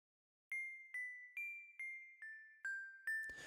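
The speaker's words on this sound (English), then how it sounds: "And then the very last thing that we've got is this little tinkle." Eight bright, bell-like tuned notes ring out one after another in an even rhythm, forming a small melody, followed by a short noisy burst.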